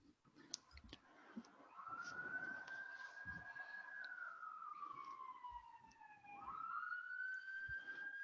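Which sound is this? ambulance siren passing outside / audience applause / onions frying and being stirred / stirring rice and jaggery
ambulance siren passing outside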